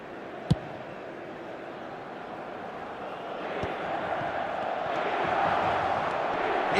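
Stadium crowd noise from an eFootball 2026 mobile football match, a steady broad roar of cheering that swells louder toward the end, with a couple of sharp brief knocks early on.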